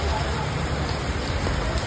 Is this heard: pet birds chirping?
no